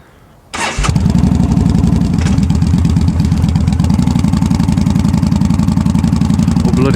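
A Yamaha V Star 1300 motorcycle cranks over and fires up, then settles straight into a loud, steady idle with a rapid, even engine rhythm that carries on close by with no talking.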